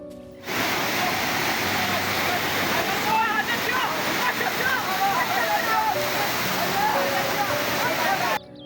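A full monsoon waterfall in Sylhet roars as a steady, loud broadband rush of falling and splashing water, starting abruptly and running unbroken for about eight seconds before cutting off.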